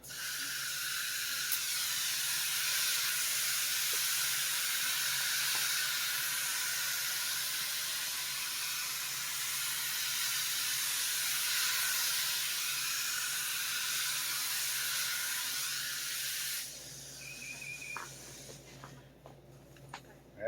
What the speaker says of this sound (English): So see, I got mist